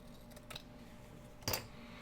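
Scissors snipping through fabric binding strip, two short crisp cuts close by with a quiet pause between, the second louder.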